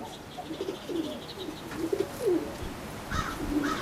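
An almond Oriental Roller pigeon coos softly in low, repeated murmuring phrases, faint and somewhat distant, with light chirps from other birds around it.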